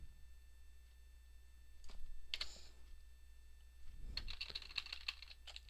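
Keys clatter on a computer keyboard in short faint bursts, a few isolated clicks followed by a quick run of typing, close over a low steady hum.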